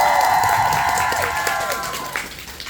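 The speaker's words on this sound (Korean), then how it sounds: "안 보이는 스태프분들을 위해서 한 번만 더 박수를 해주시면 좋겠습니다" A theater audience at a musical's curtain-call stage greeting gives another round of applause for the staff, dense clapping with scattered cheers under a speaking voice that fades as the clapping tapers off.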